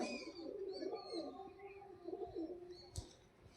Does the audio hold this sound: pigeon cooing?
yes